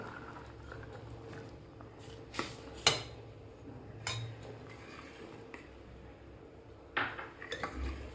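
Soaked sabudana and boiled mung dal are stirred in a pot of water for kheer over medium gas, a spoon scraping and clinking against the metal in scattered knocks over a soft bubbling background.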